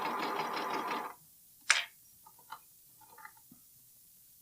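A sewing machine stitches a bralette seam in a short burst of dense, rapid whirring, then stops, leaving a few faint clicks and small handling taps.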